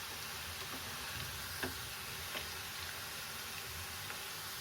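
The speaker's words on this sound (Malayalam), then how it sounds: "ഇത് നന്നായിട്ട് ഒന്ന് ഫ്രൈ ചെയ്തെടുക്കണം." Bitter gourd frying in a pan of oil, giving a steady, soft, even sizzle with a couple of faint clicks, heard alone with no talk.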